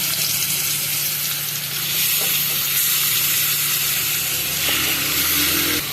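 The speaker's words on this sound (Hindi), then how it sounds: "ये आधी प्याली कुकिंग ऑयल हमने लिया था, इसमें ये सारा मैरिनेट चिकन डाल रहे हैं।" Marinated chicken tikka drops into half a cup of hot cooking oil in a karahi, giving a loud, continuous close-up sizzle and hiss with faint stirring.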